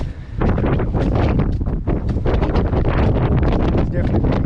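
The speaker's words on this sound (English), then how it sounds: "Warning, strong gusts." Strong wind gusts buffet the microphone outdoors on a hiking road trip near Sydney, a loud continuous rumbling roar with surging bursts filling the whole stretch.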